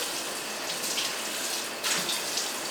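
Hot water runs from a kitchen tap in a steady close hiss and splash, with a brief surge in flow near the end.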